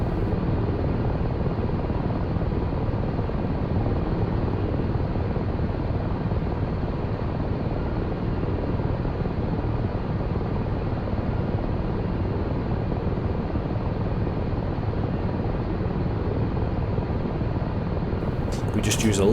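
Ka-50 helicopter in the DCS flight simulator taxiing on its wheels, a steady, loud rotor and turbine drone throughout, with a voice talking over it.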